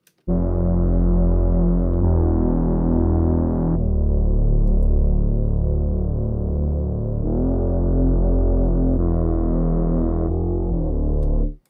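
A sustained, gritty synth bass tone with a sweeping, flanged texture, shifting through several held notes on its own.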